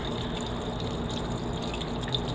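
Water sprays steadily to wash out an automatic transmission valve body during cleaning, a continuous, even hiss and rush with no pauses.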